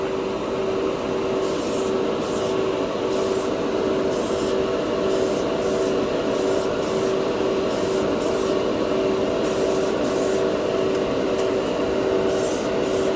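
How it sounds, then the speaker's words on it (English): An airbrush sprays anodized aluminum color paint onto a plastic plate in a steady hiss, with regular pulses of stronger airflow as the trigger is worked, close and continuous without talk. "That's how good this airbrush is. I'm pushing this huge amount"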